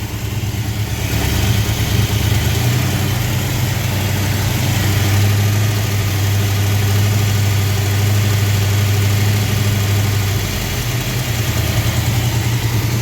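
A car engine with a Thermoquad carburetor idles steadily at about 1200 rpm nearby with a low, even rumble and a faint hum, unbroken and with no voices.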